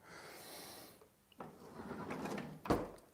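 A wooden drawer slides open in a video game, a short scrape followed by a sharper knock near the end, heard close and fairly quiet after a soft hum.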